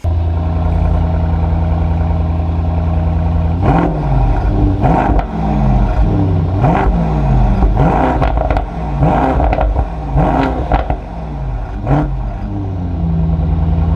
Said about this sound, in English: And the exhaust note is wonderful on this car.